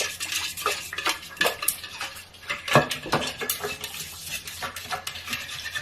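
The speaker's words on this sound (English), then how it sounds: "So in case there was any leftover wax or fragrance oil in there, you're going to stir this." Leftover candle wax and fragrance oil being stirred in a container, giving repeated close scraping and clinking taps of a utensil against the vessel, fairly steady with a few louder knocks, no talking.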